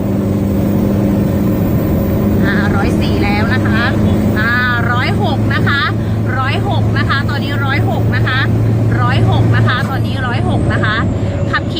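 A lifted Toyota Vigo 3000 diesel pickup with a racing injector set runs in a steady, loud engine drone, heard from inside with someone talking continuously over it.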